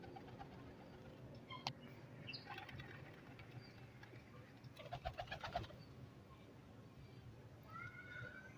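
Quiet, low pigeon cooing drifts in and out alongside faint chirps and brief fluttering, with a soft background hum throughout.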